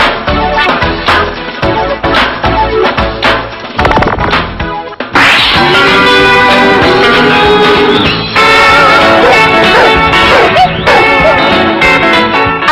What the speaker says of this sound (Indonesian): Anjing jenis Golden Retriever berusia 6 tahun dari Adelaide, Australia ini telah berhasil memecahkan rekor dunia sebagai anjing dengan gonggongan terkeras di dunia